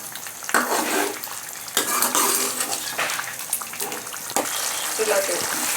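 Meat cooking in ghee over high heat in a pot for degi gosht, a steady frying sizzle with bursts of stirring and scraping against the pan, fairly loud and close, no voices.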